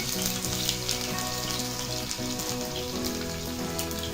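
Garlic sizzling in hot tempering oil with cumin on a tava for bitter gourd bhaji, a steady close crackling fry with dense spitting bursts and no voices.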